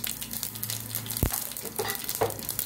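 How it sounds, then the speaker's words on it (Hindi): Mustard seeds sizzle and crackle in hot ghee in a pan, a steady low fry with scattered pops and one sharp close knock, no voices. "इसमें मैं अभी घी गर्म हो रहा है, अभी इसमें मैं थोड़ा राई डालूँगी"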